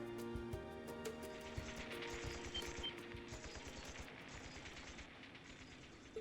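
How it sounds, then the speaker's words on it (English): Rapid bursts of gunfire in the video game The Legend of Heroes: Trails of Cold Steel rattle in quick succession over a droning, layered background, sounding distant and somewhat muffled. "Sounds like gunfire."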